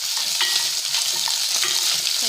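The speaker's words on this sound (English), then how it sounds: "I'm going to add a little oil and fry it." Food frying in a small amount of oil, a dense, steady close-up sizzle with soft stirring scrapes running through it.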